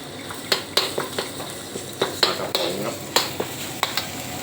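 Curry paste stir-frying in oil in a pan: a soft sizzle under a series of sharp metallic scrapes and taps from the spatula, irregular and close, with no talking.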